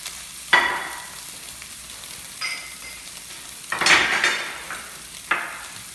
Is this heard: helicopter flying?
no